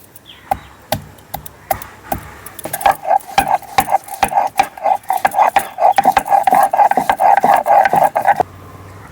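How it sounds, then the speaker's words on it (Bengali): Ginger is ground into paste by hand in a kitchen, with close, sharp rhythmic strokes that start sparse and quicken into a steady fast beat before stopping abruptly. "লো ফ্লেমে মশলাটা ভাজা হচ্ছে ততক্ষণ আমি আদাটা বেটে নিচ্ছি।"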